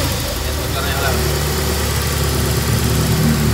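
A Peugeot 406 engine idles after a timing belt replacement, giving a steady, close, unbroken hum throughout, with a voice talking over it.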